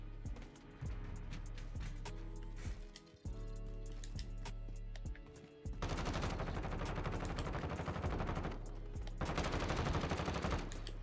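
Automatic rifle fire in Call of Duty Warzone, loud sustained bursts that stop briefly and then resume as an even denser stretch of rapid shots.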